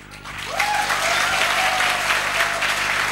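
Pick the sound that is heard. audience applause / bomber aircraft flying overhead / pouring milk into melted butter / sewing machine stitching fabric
audience applause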